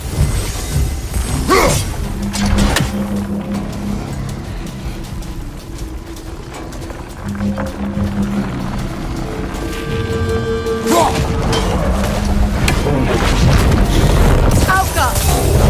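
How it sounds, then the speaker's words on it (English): Heavy impacts and crashing booms as Kratos smashes springs in God of War Ragnarok, set among roaring creatures and shouted battle voices, with loud repeated hits throughout. "Kratos, the springs! Destroy them!"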